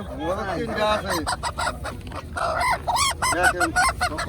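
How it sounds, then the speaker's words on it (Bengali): Chickens for sale at a morning market on the Padma riverbank at Narisha Ghat, a loud close flurry of clucks, squawks and honk-like calls, mixed with brief human chatter. "এই যে মুরগি দেখেন এই যে মুরগি"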